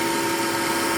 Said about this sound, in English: The speed of the DC series motor is 2012.